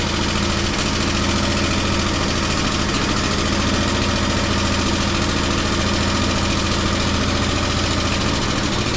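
An antique Briggs and Stratton generator engine runs at a steady idle close by, a continuous, even mechanical thrum and chug with no talking over it.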